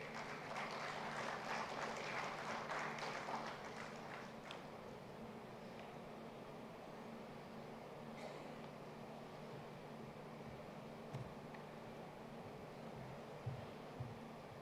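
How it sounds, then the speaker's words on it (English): Faint, distant applause greets Professor Manish Mamtani at an MOU exchange during an international seminar on 175 years of GSI, lasting about four seconds before giving way to a quiet room hum. "Let's have a huge round of applause for Professor Manish Mamtani Sahab."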